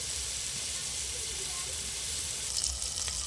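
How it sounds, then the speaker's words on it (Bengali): Oil sizzles in a wok as beetroot, beans, pumpkin and potato go in to fry, a soft continuous hiss heard fairly quietly throughout without talk. "আরও একটা তরকারি বসিয়ে দেবো বিট বিন কড়াই কুমড়ো আলু দিয়ে এটা একটা তরকারি হচ্ছে"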